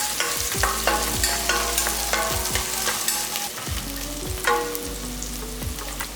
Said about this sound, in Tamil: அதனால் நான் இன்றைக்கி சோம்பு மட்டும் போட்டு தாளிக்கிறேன்.